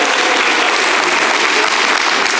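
An audience at an awards gala claps loudly and continuously, a dense, even wash of applause from a large crowd throughout.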